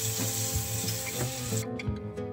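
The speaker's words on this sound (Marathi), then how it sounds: "अद्रक लसूणची जी आपण पेस्ट केली ती त्याच्यामध्ये टाकायची आणि सर्व एकत्र आता परतून घ्यायचं" Onion, tomato and ginger-garlic paste sauté together in a pan for a home-style curry, a steady moderate sizzle with stirring scrapes, the hiss thinning near the end.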